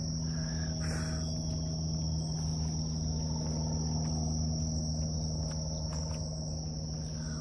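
Dense, continuous chirping of crickets and other insects, a steady high-pitched trill that fills the background throughout.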